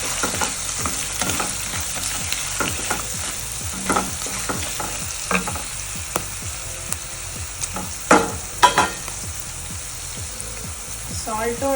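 A tempering sizzles and fries in a pan for temple-style lemon rice, with asafoetida added, a steady bright crackle running throughout, broken by stirring scrapes and a few louder pops near the end.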